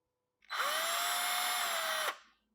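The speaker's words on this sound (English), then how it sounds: "there's also a very handy electric screwdriver. This is a cordless screwdriver" A cordless electric screwdriver runs unloaded in one continuous burst of about a second and a half, a steady, close, high-pitched whir that starts and stops abruptly against silence.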